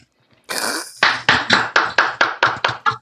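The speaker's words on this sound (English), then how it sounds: "I knew that slow clap would come." A single person gives a slow clap: about nine sharp, close hand claps at a steady, deliberate pace that speeds up slightly toward the end.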